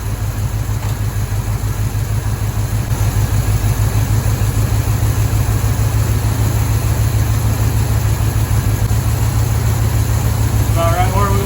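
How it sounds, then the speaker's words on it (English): A 1983 square body farm truck engine idling steadily, a low, even rhythmic rumble with a regular pulse that holds throughout and sounds close. "the engine sounds a lot healthier and a lot happier right there"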